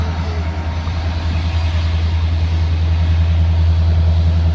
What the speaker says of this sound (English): we got a helper set coming up the hill.